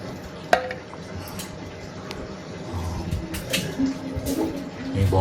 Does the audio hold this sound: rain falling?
no